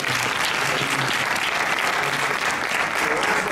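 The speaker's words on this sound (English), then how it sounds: "So I think another big round of applause." A lecture audience at a book talk on American Islamophobia gives a big round of applause, loud, dense and continuous clapping throughout, with a few faint voices mixed in.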